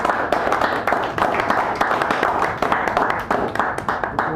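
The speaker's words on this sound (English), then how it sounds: "give Stephen a round of applause." Audience clapping at a poetry reading in a San Francisco cafe, steady and fairly close, dense patter of many hands continuing throughout with no talk.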